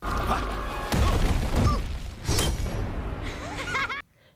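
In an animated Kung Fu Panda The Dragon Knight scene, a cart crashes into a pole: loud layered impacts, a shattering burst and thuds over busy soundtrack noise, ending in sudden near-silence.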